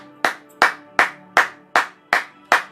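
Rhythmic clapping rises from a church congregation at worship, loud and close, with seven even, spaced claps in a steady beat and no voices heard.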